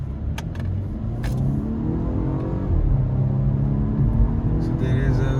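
Volvo S60 sedan driving in dynamic mode, a steady low engine and road rumble with quicker gear shifts, heard from inside the cabin under occasional speech.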